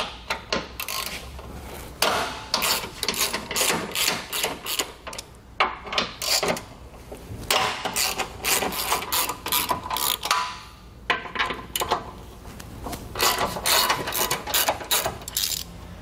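A ratchet wrench backs out 14 mm bumper beam bolts on a 2020 Honda Accord, with bursts of rapid, close clicking separated by brief pauses over sixteen seconds.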